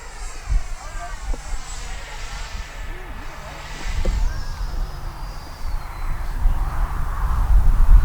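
An Arrows Marlin (Avanti) RC jet plane with new landing gear rolls down the runway for takeoff, its engine whine rising steadily beneath wind noise and a voice talking over it, louder toward the end.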